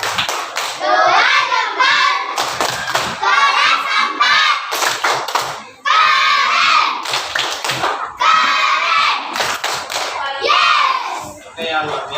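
A classroom group claps for a presenting team during a teacher training lesson, a dense burst of hand clapping in several waves with brief pauses, mixed with children's voices and some thumps.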